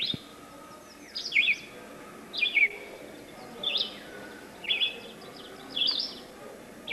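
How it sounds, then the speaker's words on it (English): A red-eyed vireo sings in an Algonquin Park forest canopy, short whistled phrases repeated about once a second with brief pauses between, moderately near over a soft steady background. "The red-eyed vireo, perhaps the park's most common bird, makes its living gleaning insects from the canopy foliage."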